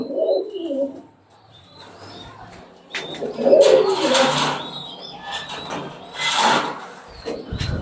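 Oman Teddy pigeons coo close by in soft, throaty bursts, with a few brief chirps and rustles between calls and quiet gaps.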